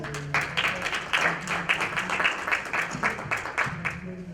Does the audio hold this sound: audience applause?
yes